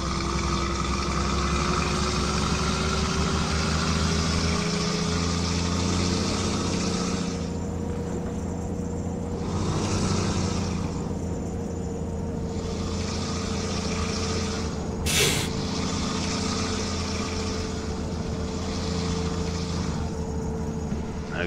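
An old rusty truck engine drones steadily while hauling a 50-ton scraper pan, a loud continuous low rumble with slowly rising pitch and a brief sharp clank near the middle.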